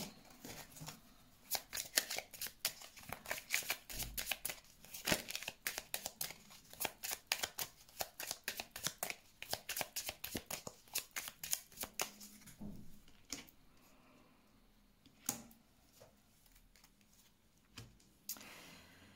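Tarot cards are shuffled in rapid bursts of soft riffling and flicking, quiet and close, with short pauses between rounds and no voice.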